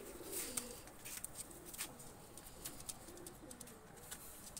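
Faint, soft cooing from Misha dabla pigeons, with a chick among them, repeats in quiet low rolls, with a few scattered sharp ticks and rustles and no talking.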